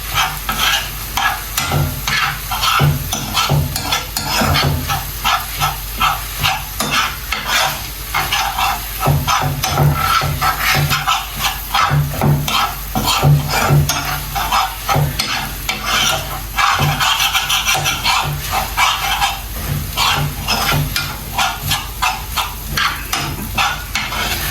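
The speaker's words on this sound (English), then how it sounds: "And then I'll stir." Okra frying in a pot while being stirred, a steady sizzle under repeated rhythmic scraping strokes of the spoon against the pot, close and loud throughout.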